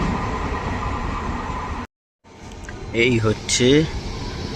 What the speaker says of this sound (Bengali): বর্ধমান হাওড়া লোকাল